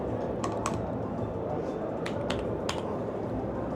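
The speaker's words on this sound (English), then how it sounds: "So I'm gonna type away." Fingers tapping on a keyboard, a few light clicks scattered over a steady background hum, faint and close, with a voice murmuring underneath.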